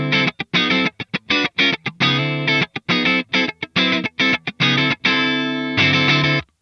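Electric guitar through an Atomic Amplifire 6 with the gain raised for grit, loud, choppy distorted chords played in a rhythmic stop-start pattern with short gaps, alone with no talking.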